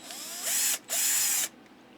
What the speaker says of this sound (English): This is the guiding drill.